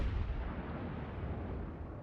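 Battleship guns fire shells in a World of Warships naval battle, a heavy, booming low rumble that rolls on steadily without any pause.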